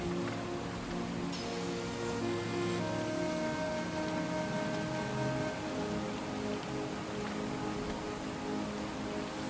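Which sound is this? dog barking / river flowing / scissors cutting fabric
river flowing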